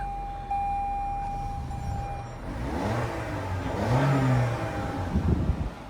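A 2020 Toyota Corolla XSE pulling away on a test drive, its engine note climbing through rising revs and gear shifts under steady road and cabin noise, close and moderately loud, with no talking.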